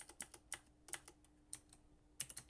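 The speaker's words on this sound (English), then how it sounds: "I was typing the wrong thing" Rapid, irregular keystrokes on a computer keyboard, sharp clicks in uneven bursts with brief pauses, close and fairly quiet, with no voices.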